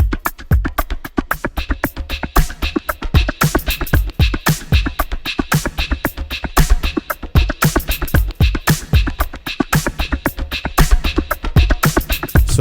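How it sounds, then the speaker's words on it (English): A busy rhythmic music loop mixed on a Behringer Wing console, driving steady beats with dense layered instruments playing continuously and loud, no voices. "let me just push everything together so that I can have a feel of the whole loop."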